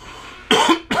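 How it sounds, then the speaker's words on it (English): One person gives a short courtesy cough, heard as two quick, close throat bursts a moment apart. "Barely even a courtesy cough."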